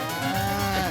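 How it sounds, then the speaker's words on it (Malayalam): A cartoon bull in a Motu Patlu episode gives one loud, drawn-out moo, close and alone, lasting just under a second. "ഇവൻ ശരിക്കും ഒരു കാളയായി മാറി."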